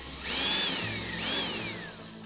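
A power drill whines up and bites into wood twice in quick succession, its pitch sliding down under load each time, close and fairly loud.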